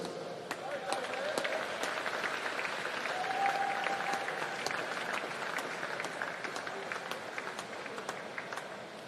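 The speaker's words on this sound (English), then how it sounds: "A round of applause for all of our team announcements this evening." Audience applause at the New Zealand Swimming Championships finals session, a steady sustained wash of clapping from a crowd in an indoor pool venue, lasting throughout with sharp individual claps standing out.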